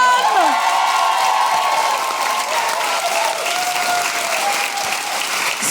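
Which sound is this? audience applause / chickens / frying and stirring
audience applause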